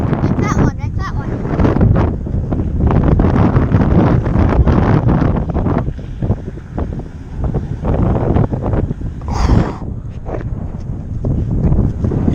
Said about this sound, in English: none of that's going to come up on the mic here just because it's way too windy